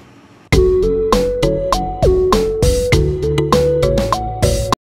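Drum beat programmed on a Maschine Mikro MK3 with reverb added, a steady pattern of punchy hits under a sustained pitched tone, loud and close, starting after a short quiet lead-in.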